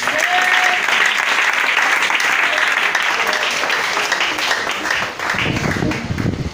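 A church congregation bursts into sustained, loud applause and acclamation praising the Lord, dense clapping with mingled cheering voices that holds steady throughout and lifts slightly near the end.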